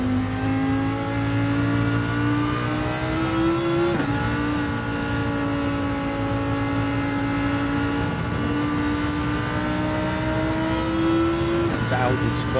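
A Lamborghini Murcielago LP640 in Gran Turismo 7 holds a loud, sustained engine drone, its pitch climbing steadily through a few gear changes, heard close and continuous with no pauses.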